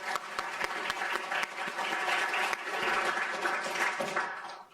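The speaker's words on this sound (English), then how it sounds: "Can we get a quick round of applause?" Applause at an advocacy event, many hands clapping with distinct sharp claps poking through a steady patter, fading toward the end.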